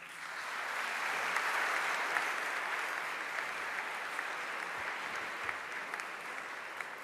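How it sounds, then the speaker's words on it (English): A church congregation at St. Gabriel applauds Bishop DiMarzio during a meeting, a steady, moderately quiet wash of many hands clapping with no voices over it. "so we give him an applause"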